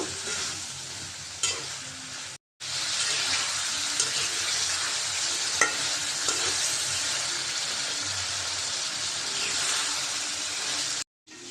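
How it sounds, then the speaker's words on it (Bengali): Shing fish stir-fried in a pan for a curry gives a loud, dense sizzle with occasional spatula scrapes, broken by two short silent gaps. "আজকের আর শিং মাছ ভাজবো না এভাবে কষাই রান্না করব"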